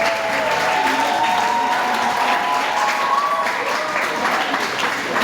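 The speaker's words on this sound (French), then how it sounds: "Donc acclamez vos enseignants qui sont ici." An audience claps for teachers at a talk on quality schooling, sustained dense applause from a sizeable crowd filling the room, steady throughout with a faint tonal ring under it.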